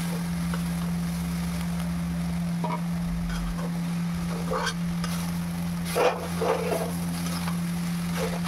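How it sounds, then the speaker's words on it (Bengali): Grated taro being stirred while frying in a pan, a steady low hum running throughout with scattered scraping and sizzling bursts, clearest near the middle and toward the end. "কচুগুলো দিয়ে আমি ভালো করে নেড়ে চেড়ে নিচ্ছি।"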